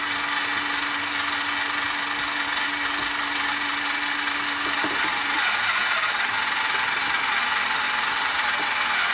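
A small Kenner Easy Bake Mix 'N Make toy mixer kneads a lump of cinnamon stick dough, giving a steady, close whirring motor hum with a faint tonal whine that grinds and strains partway through as pressure increases.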